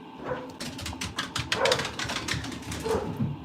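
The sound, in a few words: dog barking excitedly upstairs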